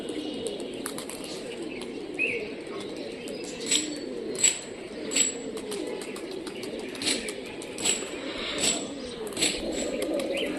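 Old-breed Rajshahi Giribaj pigeons coo in a low, continuous murmur, with soft wingbeats and scattered chirps over a steady outdoor background.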